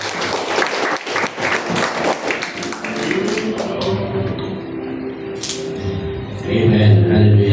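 A church congregation claps, a dense burst at first that thins out. Voices and musical tones rise underneath toward the end.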